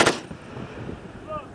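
A single sharp, loud gunshot from an M240 machine gun on a firing range, close by, followed by a short decaying rumble.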